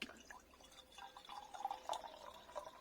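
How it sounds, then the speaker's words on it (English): Still Dabinett cider from Butford Organics, 2019, poured from a bottle into a glass: faint, close trickling and gurgling liquid with small splashy drips, quiet and continuous. "let's pour it out and see what we think"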